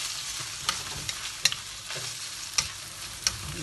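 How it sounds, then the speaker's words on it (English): Short noodles being stir-fried in a pan, a low sizzle under repeated sharp metallic clinks and scrapes of a spatula against the pan, no speech. "You just fry it there."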